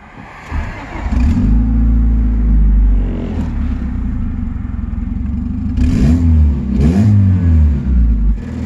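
A turbocharged Honda D16 engine with Vitara pistons at 9 psi revs hard during a tuning pull, its loud rumbling drone climbing, easing off, then surging again in close, repeated bursts.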